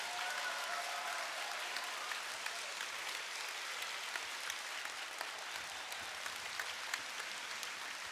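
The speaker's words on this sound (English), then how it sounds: "Let's thank them with a loud round of applause for all their work on your behalf." Continuous crowd applause at a FIRST robotics district event at the Oregon State Fair, a steady wash of clapping heard from some distance at moderate level throughout.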